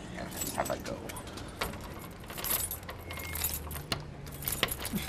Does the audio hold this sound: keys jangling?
yes